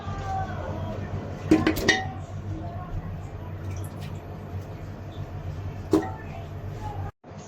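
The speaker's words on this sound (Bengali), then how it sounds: "আম্মু এখন নেহারি চাপিয়ে দিচ্ছে প্রেসার কুকারে।" Beef nihari goes into a pressure cooker at home, with a few sharp metallic clinks and clatters of pot and utensils at intervals over a steady low kitchen background.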